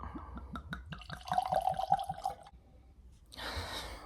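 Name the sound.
pouring Bowmore 9 whisky into a glass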